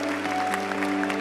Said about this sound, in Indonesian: Berikan tepuk tangan yang terbaik bagi Bapa kita yang setia